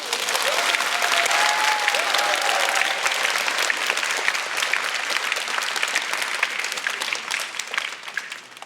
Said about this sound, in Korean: 훌륭한 부모님께 박수 한번 부탁드립니다